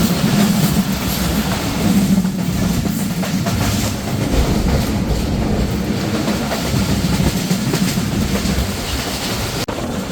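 The Barendra Express intercity train in Bangladesh runs with a loud, continuous rumble and rattling of carriages, heard from on board.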